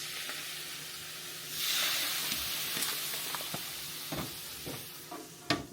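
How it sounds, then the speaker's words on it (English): A thick burger patty sizzles hard in a hot pan as steam bursts up, a loud hiss swelling mid-way, followed by scattered pops and a sharp clatter at the end. "Create that steam."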